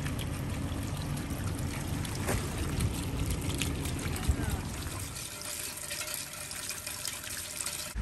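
Water runs through a French drain and swale drainage system outdoors, a continuous rushing trickle that is fuller at first and thins slightly partway through, with no talking.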